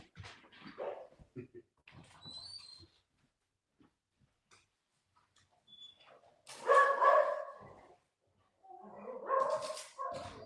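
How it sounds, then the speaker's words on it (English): A dog barks and yips in short bursts, loud and near, with whimpering between, mixed with a person talking in the background. "My dog was barking."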